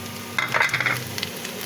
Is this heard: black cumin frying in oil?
yes